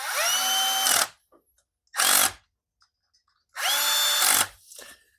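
Three loud bursts of a power tool driving camshaft bolts on an LS engine, each about half a second to a second long, separated by short silences, with a faint rattle after the last burst.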